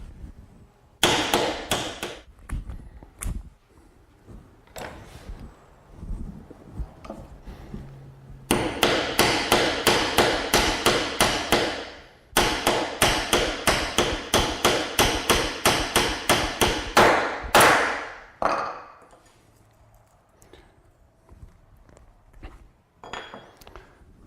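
A hammer drives a white oak peg through the holes of a steel dowel plate in a series of sharp, ringing metallic blows at close range. The strikes come as short clusters, then long rapid steady runs before stopping.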